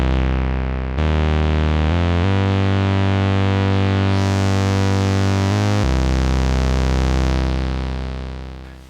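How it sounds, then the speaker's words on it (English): Synth notes pass through a Moogerfooger ClusterFlux pedal set for a lush, mellow chorus, giving sustained, thick tones that step between a few pitches and fade out at the end, with no talk. "let's just start off by trying to put on some sort of just a lush, mellow chorus sound"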